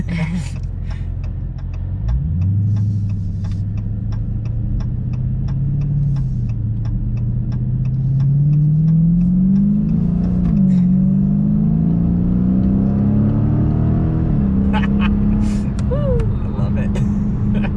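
The engine of a 2021 Dodge Challenger R/T Scat Pack in sport mode roars loudly and close, its pitch climbing steadily as it accelerates, with brief dips between gears and a constant heavy rumble throughout.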